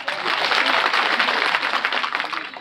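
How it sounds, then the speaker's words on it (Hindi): A crowd at a farmers' protest in Salumber claps loudly and steadily in a short, full burst of applause with no one speaking over it. "तो जोर से ताली बजे एक बार"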